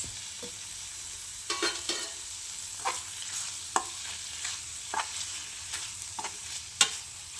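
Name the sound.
mushroom fry sizzling while coriander is stirred in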